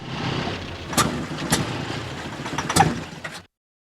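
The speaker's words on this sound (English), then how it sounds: "The sound of an engine dying." A car engine out of gas sputters and winds down with a few sharp knocks and clunks, then cuts off abruptly into silence.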